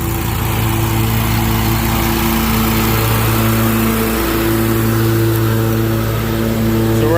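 A lawn mower cuts grass at a 3.5 cutting height, its engine droning steadily and loudly with a strong harmonic hum that holds close and constant throughout.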